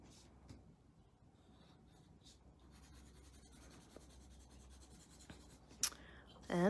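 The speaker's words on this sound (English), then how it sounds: "I can go back in with my pencil and like heighten some lines a little bit more, make them a little darker" A graphite pencil scratches and rubs softly across paper as sketch lines are darkened with added pressure, a faint, continuous near scraping with a few sharper strokes and a burst of noise at the end.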